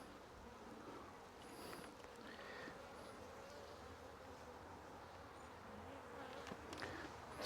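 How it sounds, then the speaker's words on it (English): A steady, close-up hum of many honey bees buzzing continuously on hive frames, with occasional higher whines as individual bees fly past. "So there is bees on these frames here."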